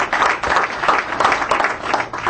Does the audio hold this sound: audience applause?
yes